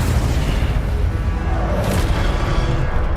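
An Incendio fire spell is cast in Hogwarts Legacy, a loud, continuous roaring whoosh of flame with a deep booming low end that holds steady for a few seconds.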